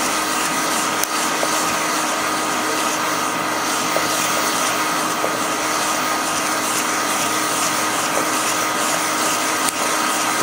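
A handheld heat gun roasting coffee beans at home gives a steady, loud blowing whoosh throughout, with faint occasional ticks as beans shift, and no talking.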